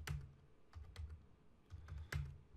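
Number entry on a computer keyboard into a protected Microsoft Excel spreadsheet: several quiet, close key clicks in small bursts with pauses between, over a low background hum.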